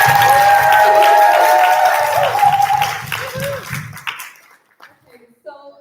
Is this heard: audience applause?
yes